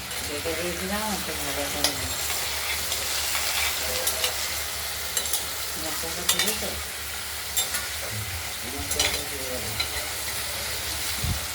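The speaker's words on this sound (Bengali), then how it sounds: "কাঁচকলা আলুগুলোকে একটু ভাজা ভাজা করে নেব" Potatoes and raw banana stir-fry in a kadai, a steady low sizzle with scraping stirs and occasional clinks, while someone talks over the cooking.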